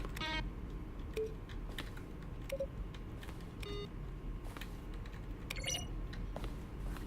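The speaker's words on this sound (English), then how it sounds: "Each sound is a mix of a keyboard stroke and a synthesized tone." Button presses in The Stanley Parable, each a keyboard stroke blended with a short synthesized tone, sound as scattered clicks and beeps at irregular intervals over a quiet background hum, with no voices.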